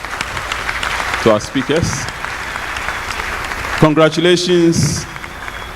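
An audience at a research meeting claps for the speakers in steady, sustained applause, with a speaker's voice briefly heard over it.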